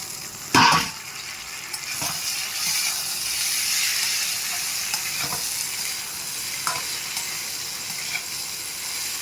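Chickpeas and peas fry in a pan over low heat, a steady broadband sizzle with a few sharp stirring clicks and scrapes near the start, close and fairly loud, with no talking.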